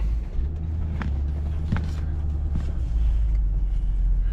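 A Range Rover L405 with a boost problem drives on a test run, producing a low, steady engine and road rumble from inside the cabin, broken by a few brief knocks and thumps.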